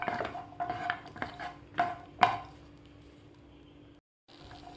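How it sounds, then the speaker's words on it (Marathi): Cashews fry in oil for soybean curry, stirred with a metal spoon that scrapes and clinks against the pan in a run of close, irregular strikes, followed by a short pause and a final clank. "आता ते तेलामध्ये आपल्याला थोडासा गोल्डन कलर होईपर्यंत आपल्याला हे काजू फ्राय करून घ्यायचे आहेत"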